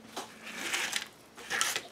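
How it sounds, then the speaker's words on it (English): Short hissing bursts from a spray bottle spritzing water onto a watercolor painting, about three quick sprays up close, with no talk. "And I'm just going to spritz it"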